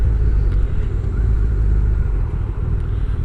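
Steady road rumble from a car cruising along the A14 dual carriageway, a continuous low engine and tyre drone with no breaks and no talk.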